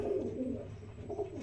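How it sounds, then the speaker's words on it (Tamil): Pigeons in a garden loft, including birds imported from Germany, give soft, low, throaty coos in two short phrases, close but faint. "ஜெர்மனிலேருந்து ஆர்டர் பண்ணி வாங்கின வச்ச புறா"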